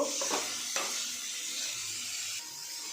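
Chopped jackfruit frying in oil with salt and turmeric in a pan, a steady close hiss of sizzling with a couple of brief stirring knocks at the start.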